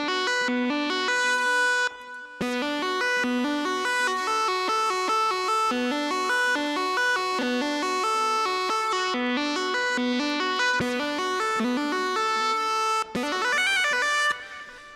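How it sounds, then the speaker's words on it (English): A distorted synth plays a bright, buzzy repeating melodic pattern, switching between a harsher tone with distortion after the filter and a more filtered, muffled tone with distortion before it, with brief pauses. "get a cleaner distortion with a little bit more of it, or a filtered out distortion"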